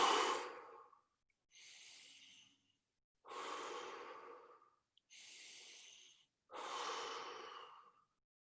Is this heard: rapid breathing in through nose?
yes